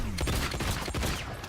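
Rapid bursts of gunfire crackle through a Mortal Kombat 1 tournament match, loud and dense shots packed closely together with a few heavier impacts.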